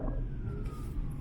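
A rain-soaked road at a fresh car accident scene, with an ambulance siren wailing faintly in the distance under low traffic rumble and wet tyre noise.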